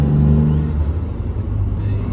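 A BMW E28 M5 on a road test run after a suspension rebuild and steering rack reconditioning, its engine giving a steady, close, low rumble with a brief rev near the start and traffic around.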